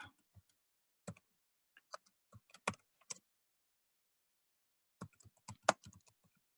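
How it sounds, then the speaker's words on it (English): Fingers tap out scattered keystrokes on a computer keyboard, quiet and close, in short irregular bursts with a pause midway before a quicker flurry. "if you go and try and type their name, Ben Philippe"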